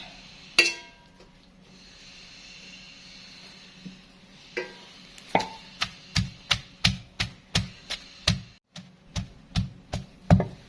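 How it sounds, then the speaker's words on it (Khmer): Cooked pork being pounded for homemade pork floss, heard as a steady run of sharp, close knocks after a few scattered hits, roughly a dozen in quick succession with no talking. "ចាយើងបន្តដួសដាក់បុកតទៅអស់"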